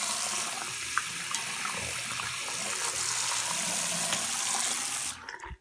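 Water runs steadily over an Apple Watch Series 3 Nike Edition held under a tap, a continuous close splashing gush that stops abruptly near the end.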